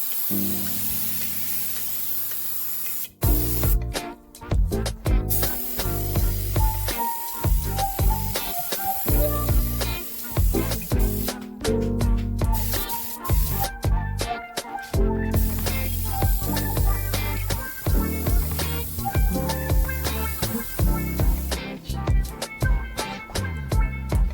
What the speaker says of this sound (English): Applying the second coat of spray prime now.